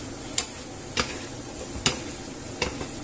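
Hake fillets and rice being stirred in a single pan, with a few scattered soft scrapes and taps of a utensil over a low, steady background hiss, no talking.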